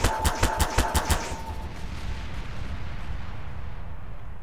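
A Garry's Mod battery of five turbolasers fires a rapid volley of about six sharp, evenly spaced blasts at an assault force, then a long fading rumble of impacts and echo.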